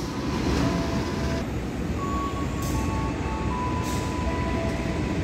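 A train runs past near Semarang Poncol, a steady broadband rumble with faint high tonal squeals and whistles, moderately distant and unbroken, with no talk.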